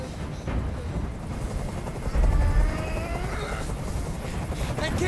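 A helicopter hovers in the video game Detroit: Become Human, its rotor thumping and engine whining continuously and close by. The noise surges louder midway, with game sounds layered underneath.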